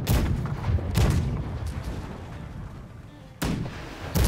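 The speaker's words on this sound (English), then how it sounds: "I loaded a cannon" Loud booming ship cannon shots in the naval video game Blackwake, several heavy blasts in an uneven sequence with rumbling decay between them.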